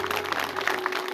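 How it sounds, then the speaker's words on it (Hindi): Group of people clapping hands together during a yoga session, a brief burst of many overlapping claps, fairly close and even, over a low steady hum. "ताली बजाओ"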